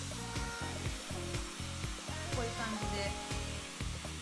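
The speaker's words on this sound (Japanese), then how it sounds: "私が先にやるのはこう根元ですね。やっぱ頭皮を先に乾かしたいん で、ここをしっかり乾かしてから、表面を乾かすっていうのをやっていきます。" A hair dryer blows steadily at the roots and scalp of curly hair, its loud continuous whir rising and dipping as it moves, with a brief spoken phrase over it.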